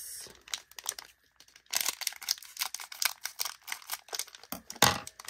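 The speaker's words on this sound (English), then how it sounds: "Let me grab some scissors to cut this." Plastic packaging holding silicone pumpkin beads rustles and crinkles close up, with sharp snips and tearing bursts as scissors cut it open, in uneven handling noise and no talking.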